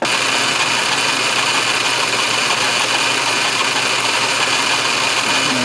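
A machine takes super light cuts on a wooden grasshopper engine linkage, giving a steady, continuous mechanical whir and hiss with a faint ticking texture, close and constant throughout with no pauses.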